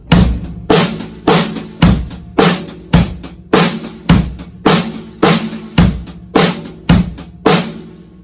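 A drum kit plays a steady, even pulse of about fourteen sharp, loud hits, counted first in groups of three and then in groups of four, with no talking.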